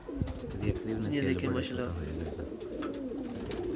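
Pigeons cooing in a Faisalabad breeder's loft of golden racing pigeons, soft repeated coos close by under someone talking throughout.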